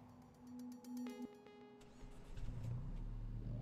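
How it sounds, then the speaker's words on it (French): Car engines in a racing video game, a steady tonal hum that gives way to a louder, rising rev toward the end, with no talking over it. "Le son est pas mal des voitures."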